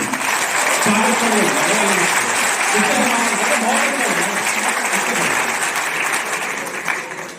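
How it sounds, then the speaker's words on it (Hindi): Sustained loud applause from a large audience at a university kavi sammelan poetry gathering, a dense wash of clapping that holds steady for several seconds and thins slightly at the end, with faint voices beneath. "दोनों हाथ उठाइए, तालियों में तब्दील करिए"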